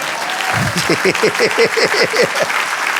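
Church congregation applauding during a Spanish-language sermon, steady crowd clapping with a quick rhythmic run of shouted or sung voices over it for about three seconds.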